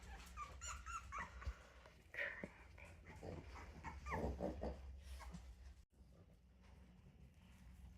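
Five young puppies whimpering and whining near their litter box, overlapping thin cries and soft grumbles close by, steady for several seconds before a brief dip, then quieter whines continue.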